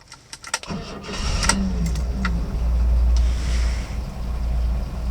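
A 1970 Datsun Cedric Super Six (G130) is started with a few key clicks, the engine catching and settling into a low, smooth, steady idle heard from inside the car, with no talking.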